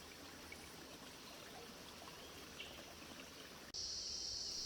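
Steady rush of a flowing stream in a Queensland rainforest near Cairns, a broad continuous wash with faint insect chirps, ending in a sudden loud high-pitched buzz as another insect starts close by.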